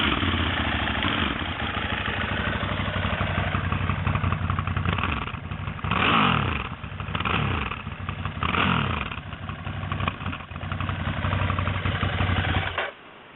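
A Ducati Hypermotard 1100 Evo motorcycle engine idles close and loud, a steady lumpy rumble with several brief throttle blips rising and falling before it cuts off at the end.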